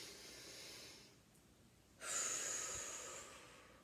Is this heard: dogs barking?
no